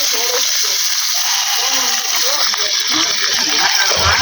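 Green chilies and onions fry slowly in a pan for a puti fish bharta, giving a steady close sizzle and hiss with faint spattering throughout.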